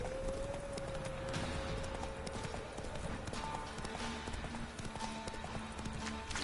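Hooves of the horse Roach clip-clop steadily in The Witcher 3: Wild Hunt, a continuous rhythmic trot under a busy game soundscape, with a short whinny-like tone near the start.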